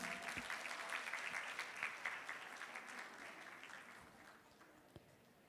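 An audience claps steadily for the winners of a dance competition at the International Art Festival 2024 in Singapore. The applause is strong at first, then gradually tapers off and fades.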